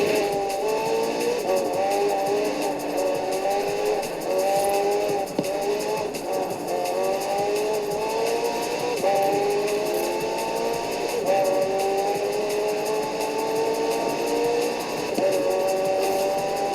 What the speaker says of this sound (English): The car's blistering performance is delivered by a twin-turbo V8, supplemented by a McLaren ECU electric motor and instant power assist system.